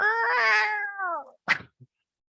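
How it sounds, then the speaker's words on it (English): A single long, wavering cat yowl, loud and close, followed by a short sharp meow-like cry and a faint brief chirp. "you hear a single screeching yowl of a cat"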